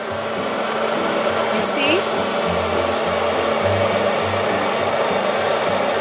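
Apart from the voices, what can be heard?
hot air popcorn maker running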